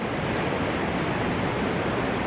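Ocean surf at Anglesea on the Great Ocean Road gives a steady broadband roar of breaking waves, loud and continuous, with some wind over the shoreline and no voices.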